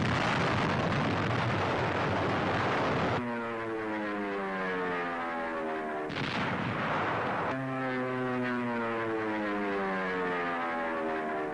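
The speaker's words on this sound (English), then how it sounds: "Now Mount Suribachi is smeared by Navy dive bombers." Navy dive bombers attack Mount Suribachi on Iwo Jima, heard as a loud, continuous roar of blasts and gunfire broken by sharp cuts, with rumbling explosions under a dense, harsh wash of noise.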